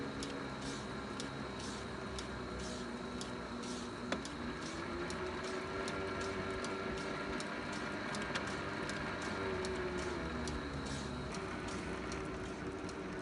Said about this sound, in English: if I engage the power feed, the motor seems to bog down quite a bit